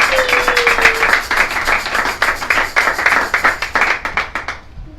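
A church congregation at a Sunday service claps together in a steady, rhythmic beat, loud and close, with a brief whistle-like tone early on, the clapping thinning out near the end.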